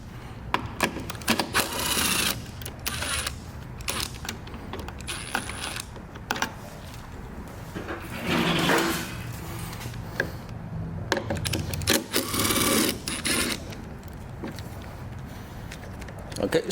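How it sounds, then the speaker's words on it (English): A ratchet with a flexible head working a bolt loose on a 2023+ Ford Raptor bumper, giving rapid clicking bursts between pauses, close up, mixed with clattering handling noise. "use a wrench or ratchet like this"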